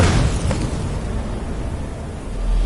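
A dragon's fire breath shout in Skyrim, a loud roaring rush of flame that bursts at the start and then holds as a steady, broad blaze with no speech over it.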